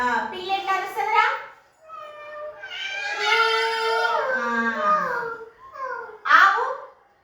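Children imitate a cat's meow, voicing drawn-out, gliding mews one after another, close and fairly loud with short gaps between them.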